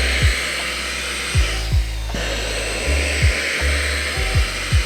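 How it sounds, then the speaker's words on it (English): Xiaomi Mijia portable vacuum cleaner running steadily with a broadband whirring hiss, close and continuous, with a few soft low thumps of handling scattered through. "when you vacuum it, it does have a strong of a suction that it will grab the mouse pad there."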